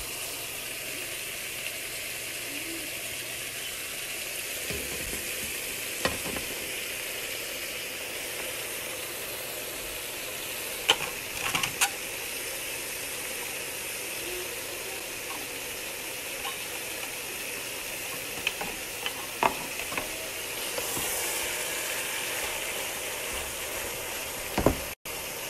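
Steady sizzling and hissing of a chickpea stew in a pan, with spinach tipped in and stirred through, giving a few soft clicks and scrapes over a constant bubbling background.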